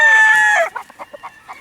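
A rooster crows loudly and close by in a gamefowl yard, a held call lasting over half a second, followed by a quick series of short hen clucks.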